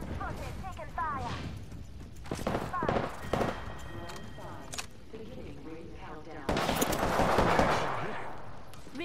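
Gunfire in the video game Apex Legends: dense bursts of rapid shots and crackling impacts, fairly loud and close, with a louder barrage near the end and voices speaking over parts of it.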